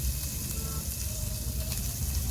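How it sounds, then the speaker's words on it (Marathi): Store-bought Amul paneer pieces shallow-frying in a little oil in a pan, a dense, steady close sizzle with no talk. "या तेलामध्ये आता मी पनीर थोडंसं हलकं भाजून घेणार आहे"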